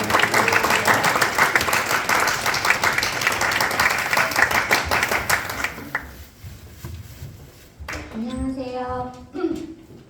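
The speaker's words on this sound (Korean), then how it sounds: "큰 박수로 맞이해주시면 감사하겠습니다" A church youth-service congregation claps loudly and steadily to welcome a teacher, the applause fading out after about six seconds, followed by quiet room tone and someone speaking.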